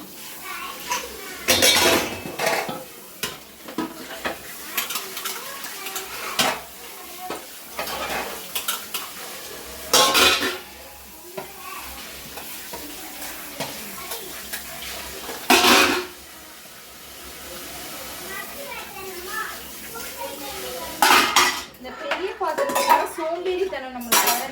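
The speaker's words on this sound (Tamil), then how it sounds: "பெரிய பெரிய பாத்திரத்தெல்லாம் முதல்ல கழுவி போட்டு எடுத்துருவேன்" Large pots and vessels being scrubbed and washed by hand, with repeated loud metallic clanks and scrapes of metal cookware knocking together, plus running water and rinsing between the bangs.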